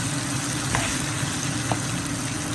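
Onions hitting hot oil in a pan beside dried fish, a steady low sizzle of frying that holds evenly throughout with no voices.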